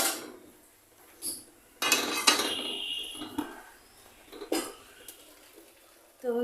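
A pot of cooked red lentil dal is lifted off the stove, with clanks and scrapes of metal cookware in a few close, loud bursts separated by quiet gaps.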